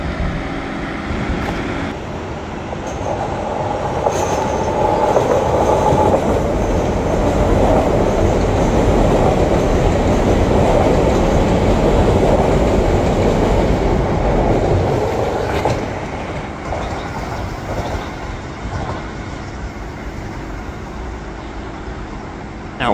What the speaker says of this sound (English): That train's going that quick, it was shaking this bridge.